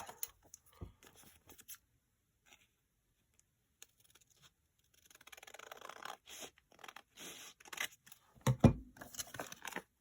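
Big scissors cut across the bottom of a torn paper page for a Victorian junk journal, giving a run of close, soft snipping and rustling scrapes that ends in a few louder crunches.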